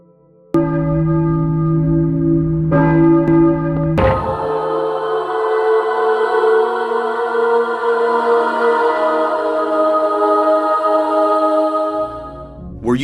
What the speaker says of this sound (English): Were you ringing that bell?